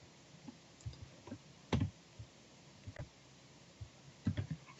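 Soft taps and clicks on a Tobii Dynavox communication device as topic choices are selected, a few scattered quiet presses over a faint background, with no talking.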